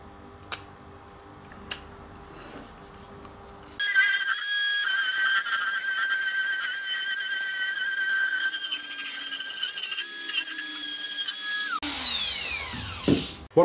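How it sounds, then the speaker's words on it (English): A Dremel 4000 rotary tool fitted with a SpeedClic metal cutting disc whines loudly at high speed for several seconds, with shifting pitch as the disc bites into metal, then spins down near the end. "I'm just going to use a Dremel with a SpeedClic attachment and a metal cutting disc"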